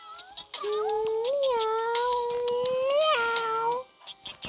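A cat gives one long, drawn-out, wavering meow lasting about three seconds, loud and close, followed by a few short soft sounds.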